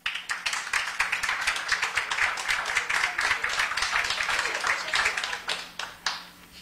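A crowd claps steadily and densely at a radio tribute event in Pinamar, close and loud throughout, with the sound tapering into a few scattered claps near the end.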